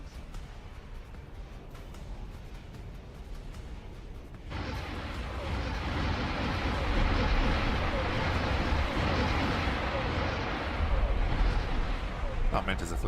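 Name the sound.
explosion in a Star Wars Interworlds video game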